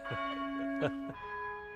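Church bells ring in Ypres, Belgium, several full strikes in steady succession with a sustained humming resonance, clear and fairly close.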